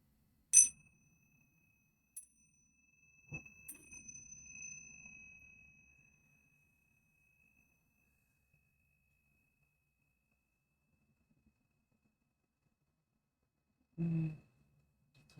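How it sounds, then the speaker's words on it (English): A small bell is struck a few times in a quiet room, each strike leaving a clear, sustained ringing tone that slowly fades, followed later by a soft thump. "I'm going to do the bell for a minute to cleanse the vibrations in the air."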